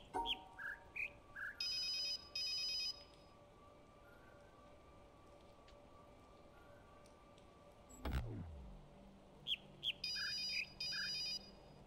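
An in-game telephone rings in The Witness, with short bursts of electronic tones near the start and again near the end of the stretch. Bird-like chirps and a quiet drone sit between the rings.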